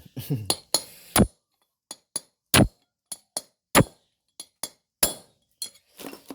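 Sharp metallic hammer strikes drive a wheel bearing into the front hub of an Isuzu, a dozen or so separate clanks at an uneven pace, close and loud, with bursts of ringing between them.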